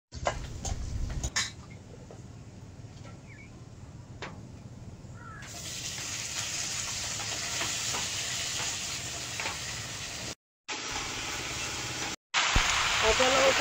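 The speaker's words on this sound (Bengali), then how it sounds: "এর মধ্যে 5 ফোড়ন, গোটা শুকনো লঙ্কা, তেজপাতা, পেঁয়াজ কুচি আর রসুন কুচি দিয়ে দেব," Panch phoron, whole dried chilli, bay leaf, chopped onion and garlic frying in hot oil in a kadai, a steady sizzle that grows louder partway through, broken by a couple of short gaps.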